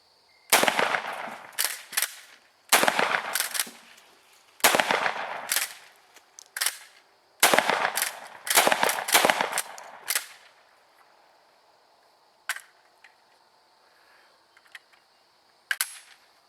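A Winchester Model 1897 shotgun slam-fires in loud, sharp reports that come in rapid clusters, then thin out to a few scattered shots.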